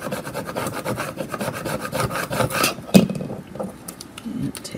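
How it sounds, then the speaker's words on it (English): A squeegee is drawn over old vinyl transfer tape in repeated rubbing strokes, close and scratchy, followed by a sharp tap and quieter handling. "And then smooth it on with my squeegee."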